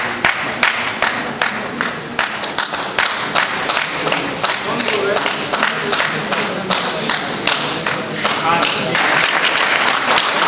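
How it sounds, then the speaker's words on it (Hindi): Loud, dense applause from a large crowd at an inauguration ceremony for an old age care certificate course in India, steady clapping throughout with a few sharper claps standing out. "तालियां स्वास्थ्य के लिए भी बहुत फायदेमंद होती हैं।"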